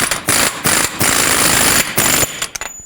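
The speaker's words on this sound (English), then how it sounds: "I'm going to start it on with the air gun, but as you'll notice, I'm going to stop right as it bottoms out" Pneumatic air impact gun driving on an axle nut during front lower control arm replacement on a GMC Yukon, loud rattling hammering bursts in several short runs with brief pauses, close up and heard alone.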